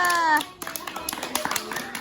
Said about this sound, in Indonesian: tepuk tangan dong buat temennya